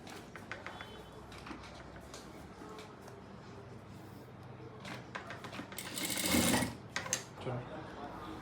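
A sewing machine stitches a salwar hem in short, whirring bursts of rapid mechanical chatter, close by, swelling into a louder, longer run near the end.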